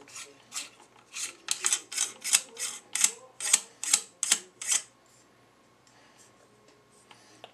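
The locking ring on an AR-15 stock is loosened, producing a series of about a dozen close, sharp ratcheting clicks in an uneven rhythm, then fading to near silence.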